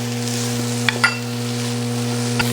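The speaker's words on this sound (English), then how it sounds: "add in 2 ribs of celery that are diced" Diced celery sautéing in a soup pot for Tuscan white bean soup, a steady soft sizzle with a few brief louder clicks of stirring, alone with no talk.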